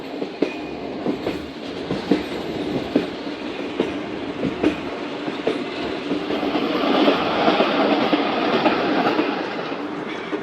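A Multan to Dera Ghazi Khan shuttle train rumbles steadily along the track with repeated clickety-clack beats from the wheels, loud and close, growing slightly rougher toward the end.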